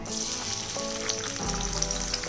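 Onion frying in hot oil in a kadhai, a steady, close, dense sizzle that carries on evenly throughout with no voices over it.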